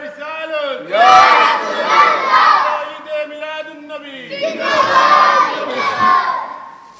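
At a Mawlid religious gathering, a large crowd shouts takbir in two loud massed waves answering a leader's call, voices ringing together in a loud chant with short pauses between.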